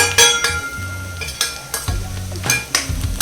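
Spices and paste fry in a pan for a ladies finger (okra) masala curry, stirred with a metal spoon. A soft sizzle sits under repeated scraping strokes and sharp clinks against the pan.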